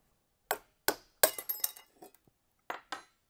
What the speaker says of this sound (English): Let's get some clear ice in this highball.